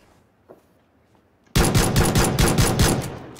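Rapid automatic gunfire from the PUBG battle royale game, firing shots through a window, bursts in abruptly after a quiet moment and hammers on loud and close in a fast, steady string.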